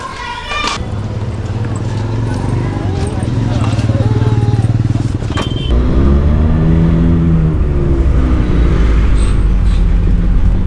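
An MSRTC state transport bus pulls into a busy Mumbai Central ST depot, its engine rumbling and shifting pitch close by, with crowd noise and people talking throughout.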